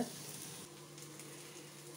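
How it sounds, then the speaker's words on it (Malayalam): Soft, steady sizzling of onions sautéing in a pan, a quiet continuous crackle with a faint low hum underneath. "സവാള ഗോൾഡൻ കളർ ആകുന്നത് വരെ നമുക്ക് വഴറ്റണം"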